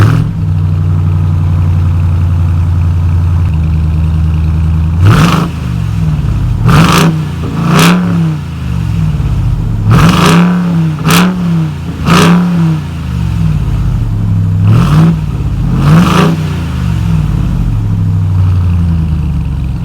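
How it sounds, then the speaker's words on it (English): A 2021 Ram 1500 TRX supercharged pickup sits idling with a deep exhaust burble, then blips its throttle in a series of sharp, loud revs, some single and some in quick pairs, each falling back to idle. "I do want to go over how the exhaust sounds,"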